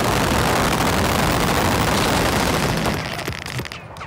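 Rapid bursts of heavy machine-gun fire from Battle of Britain aircraft guns, loud and continuous for about three seconds before cutting off into fading echoes.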